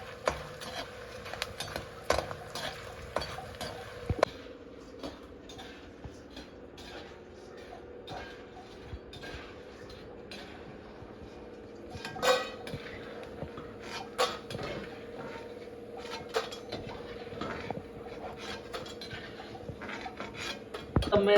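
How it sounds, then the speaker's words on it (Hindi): Edible gum (gond) is stirred as it roasts in a pan over medium heat, with repeated scraping and rasping of a spoon on metal, light clinks, and a few sharper knocks spread unevenly over a quiet background. "थोड़ा डाल करके सारे गोंद को भून लूँगी"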